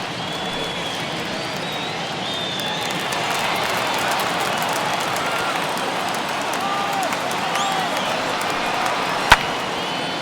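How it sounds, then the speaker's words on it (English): Baseball stadium crowd in the MLB The Show 21 video game during a Pittsburgh Pirates vs San Diego Padres game, a steady murmuring roar of a modest crowd with one sharp crack near the end. "this crowd wasn't all that big, but they've stuck around to the final out"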